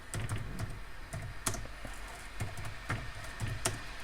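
Keys clatter steadily on a computer keyboard as text is typed, soft, close-up taps in irregular little runs with a few sharper strokes, no voices over the rattle.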